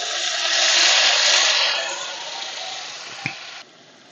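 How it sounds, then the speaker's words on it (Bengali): Water poured into a pan of masala paste fried until the oil separates, for a Bengali prawn malai curry, sets off a loud broad sizzle that swells, then gradually settles to a softer hiss, with a brief clink near the end. "মশলাটা থেকে যখন তেল ছেড়ে দিয়েছে এই পর্যায়ে দিয়ে দিচ্ছি জল"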